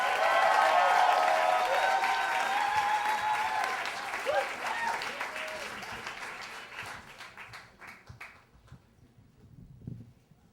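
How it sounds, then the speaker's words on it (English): An audience at a Moth story slam breaks into loud, full applause that gradually thins and fades over ten seconds, leaving scattered claps and a quiet room. "how about a big round of applause for Erin as she comes up"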